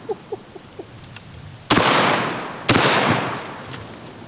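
Two loud, sharp blasts about a second apart from a Panzer M4 Speed Pro shotgun firing double-aught buckshot at pumpkins outdoors, each followed by a long decaying rumble, with a few soft clicks before the first shot.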